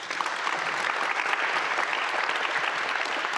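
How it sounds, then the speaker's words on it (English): A conference audience applauds the panelists after a science discussion, a dense, steady wash of many hands clapping for a few seconds, fairly loud and unbroken, with no talk over it. "Please give a small applause to the panelists"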